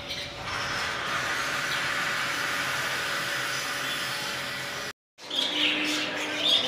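Budgerigars and diamond doves in an aviary produce a dense, steady wash of chirps and twitters close by, broken by a brief cut before the chatter resumes.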